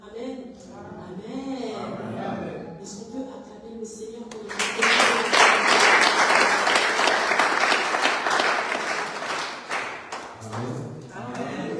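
A church congregation breaks into loud, sustained applause and cheering during a men's worship service, the clapping swelling after a voice and carrying on for several seconds before talk resumes.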